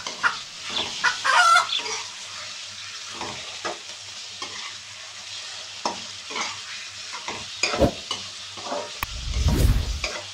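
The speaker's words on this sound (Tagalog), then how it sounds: "So ngayon ang susunod natin gagawin na ilagay ko na po yung ating chicken." Chicken pieces added to a pan of sizzling onion, garlic and ginger, followed by scattered stirring scrapes and clatters over a soft frying crackle, with a louder bump near the end.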